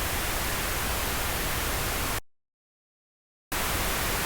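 Plain white noise run through an OTT multiband compressor plugin, a loud flat hiss that cuts to total silence for over a second and then resumes abruptly, with no talking.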